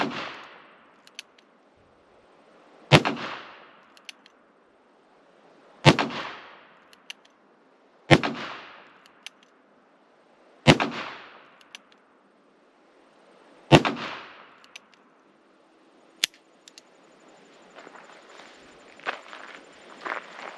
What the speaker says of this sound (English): I'm going to show you with a one-handed shot here how little recoil you get from a 44 Magnum